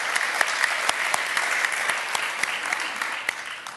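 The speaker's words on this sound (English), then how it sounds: "that deserves a round of applause" A live audience at a talk on youth mental health gives a sustained round of applause, dense overlapping claps with sharper individual hits, moderately close and steady, fading slightly at the end.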